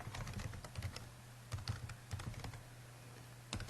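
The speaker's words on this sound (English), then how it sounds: "type that in." Fingers type on a computer keyboard, a close run of quick irregular key clicks with a few brief pauses and a firmer final tap, steady and without any talking.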